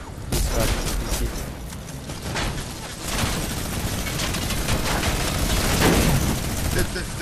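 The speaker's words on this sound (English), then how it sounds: "Why are they shooting us?" Dense, continuous gunfire from a War Thunder mode in Fortnite, with rapid overlapping shots and booms throughout, loud and close, and players' voices underneath.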